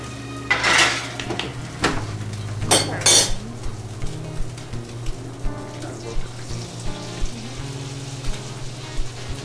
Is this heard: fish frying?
yes